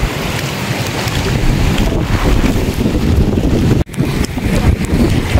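Steady wind roaring and buffeting a microphone outdoors on a boat trip in Bohol, loud and continuous with one brief dropout near the end.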